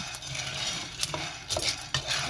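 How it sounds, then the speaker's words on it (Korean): Black beans being stir-fried in a preheated frying pan, giving a steady dry rattle and scrape of beans shifting against the pan, with a few louder clicks and taps where a utensil strikes the metal, close and without speech. "프라이팬을 어느 정도 달군 다음에 이렇게 콩을 넣어서 볶아주세요"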